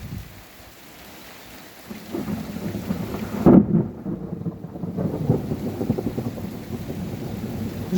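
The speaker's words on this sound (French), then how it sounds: "l'impact de foudre, encore une fois, hein" Thunder from a nearby lightning strike during a strong July storm at Montady, France: a low rumble builds, then a loud crack and rolling boom, with steady rain pattering on surfaces throughout.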